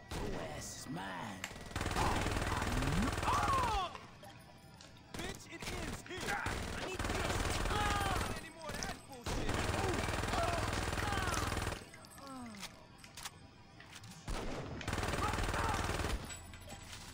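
Gunfire during a shootout in the video game Saints Row, repeated bursts of rapid shots lasting a few seconds each, separated by short quieter gaps, loud and close.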